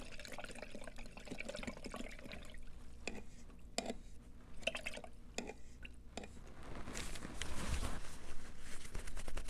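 A paintbrush is swished and rinsed in a container of water, giving soft splashing and dripping sounds at close range that grow busier and louder toward the end.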